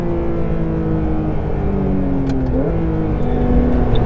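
A Porsche 911 GT3 on a race track roars steadily close by, its engine note holding high with a brief shift-like dip and rise midway, loud and continuous throughout with no voices.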